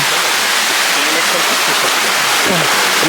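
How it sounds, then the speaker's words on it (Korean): Buatong waterfall, which visitors climb upstream, gives off a loud, unbroken close-up rush of falling water with voices faintly audible underneath. "여기 폭포가 미청 크네"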